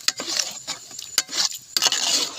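A spoon stirs fish and brinjal curry with chilli powder, turmeric and asafoetida in a pot, giving irregular close scrapes and clinks against the metal over a soft background, with no talking.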